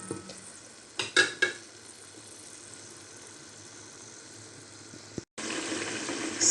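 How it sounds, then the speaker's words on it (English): Tomatoes fry in a pot for a vegetable soup, giving a steady soft sizzle. A few sharp utensil knocks sound near the start, and the sizzle grows louder in the final second after a brief gap. "So this is the tomatoes. It is cooking."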